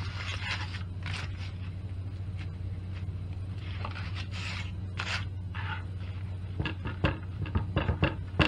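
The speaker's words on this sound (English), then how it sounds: "I'm gonna throw on a little bit of Irish butter here." Irish butter scraped across a thin slice of sourdough bread, a series of short dry rasping strokes, close and fairly quiet, over a steady low hum.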